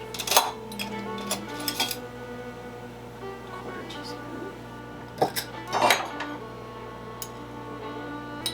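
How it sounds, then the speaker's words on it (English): Gluten-free cupcake dry ingredients, baking powder, baking soda and salt, are mixed in a bowl, giving scattered clinks and scrapes of a utensil against the bowl in short bursts with quiet gaps between. "I mix those all together in a bowl and set them aside"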